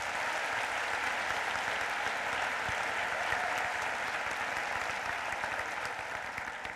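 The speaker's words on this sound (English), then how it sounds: "Give them all a round of applause." Audience applause at a school district's opening day gathering, a sustained dense wash of many hands clapping evenly, moderately distant and fading slightly at the end, with no voices.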